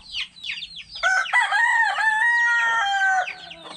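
A few short clucks from a rooster lead into a full, loud crow nearby, a long wavering call that stretches over several seconds before trailing off, with no talking.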